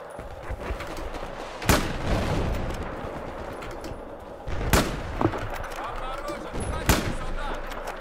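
Gunfire in a video game: sharp single shots ring out a few seconds apart over a busy background of game noise, with a voice talking at times.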